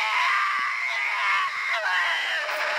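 Characters scream in the horror video game Poppy Playtime Chapter 3, a shrill, wavering cry that rises and falls for a couple of seconds, loud and unaccompanied by talk.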